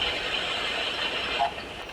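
A train approaching a station platform gives a steady, fairly loud rumble and hiss that runs through the whole stretch, with a brief brighter swell near the middle and no voices over it.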